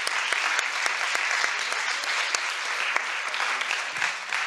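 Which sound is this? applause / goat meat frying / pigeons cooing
applause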